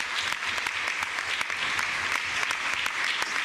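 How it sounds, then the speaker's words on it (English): Sustained applause fills a legislative chamber during a budget vote, a dense, even patter of many hands clapping at a steady level throughout, with no voices on top. "to that rousing round of applause"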